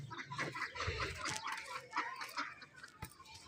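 Chickens clucking in a village yard, several faint, irregular clucks and calls with rustling, fairly distant and quiet, no talk.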